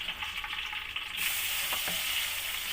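Tomato and chili frying in a pan for sambal, a steady close sizzle with crackling that grows louder and brighter partway through as fresh ingredients hit the hot oil.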